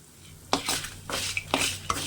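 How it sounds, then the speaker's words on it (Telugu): Coconut dry-roasting in a pan for coconut powder, with four or five brisk, regular scraping strokes of a spatula against the pan and light metallic clinks, close up and with no voices. "చూసారు కదా, పొడి కోసం వేయించుతున్నానండి."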